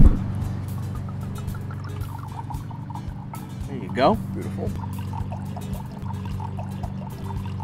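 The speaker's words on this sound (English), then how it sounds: "So let's pour this sucker." Sardinian Vermentino white wine pours into a glass in one short splashing burst midway, with people talking over it before and after.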